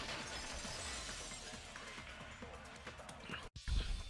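A vase shattering as a sound effect in the video game Danganronpa 2: a quiet, noisy burst of breaking glass-like crashes that fades out, followed by a brief gap and a low thump.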